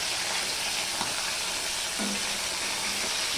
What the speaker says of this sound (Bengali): দুটো মাছের মাথায় আমি এইভাবে দেখো ভেজে নিয়েছি লাল লাল করে